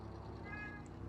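A pet cat gives a single faint, brief meow over low background hum, heard alone without talk.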